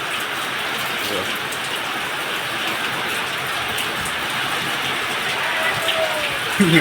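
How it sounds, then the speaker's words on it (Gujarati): Heavy rain pours down in a dense, steady roar of drops on surfaces, with a faint voice briefly audible in the background. "તો ફૂલ વરસાદ ચાલુ થઈ ગયો છે."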